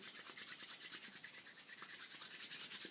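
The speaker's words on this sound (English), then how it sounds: "begin to rub the hands together" Two hands rub briskly together in a quick, even back-and-forth rhythm, a soft close swishing repeated about seven times a second with no talking.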